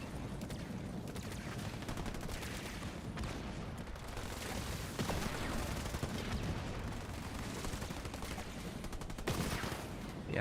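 Dense, continuous gunfire and battle noise from a Halo Wars 2 match with sniper units firing, a crowded wash of shots and explosions that never lets up.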